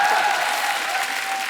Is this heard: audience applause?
yes